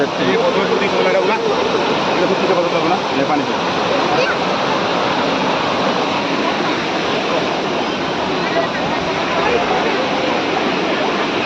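Steady, roaring rush of a waterfall, loud and unbroken throughout, with faint voices mixed in.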